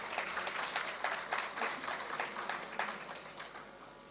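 A graduation convocation crowd gives steady, dense applause for a graduate, a continuous wash of many hands clapping with slight surges in intensity, moderately loud and heard without speech.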